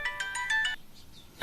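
A mobile phone ringtone plays as a quick series of bright, repeating electronic tones for under a second, then goes quiet and ends in a short burst of noise.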